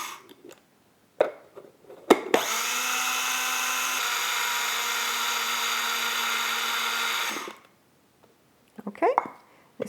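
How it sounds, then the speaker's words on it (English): A coffee mill grinds poppy seeds with a steady high-pitched electric whine lasting about five seconds, close and loud, between scattered handling clicks and knocks before and after. "in my coffee mill, and I have to grind it."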